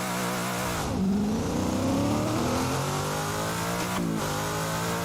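Simulated car engine in the Assetto Corsa racing game revs up and drops steadily through speed shifts with the clutch, a continuous loud engine drone with rising and falling pitch sweeps and a brief dip at each gear change.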